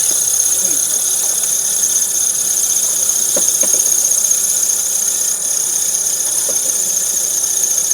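An RV slide-out motor runs in a steady, high-pitched electric whine with a low mechanical hum beneath it and a few faint clicks and knocks from the mechanism, heard close up.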